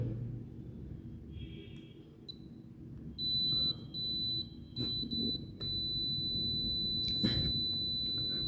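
A tester beeps while probing the battery connector of a Samsung phone: shrill, high beeps come in short bursts, then hold steady over a low background hum.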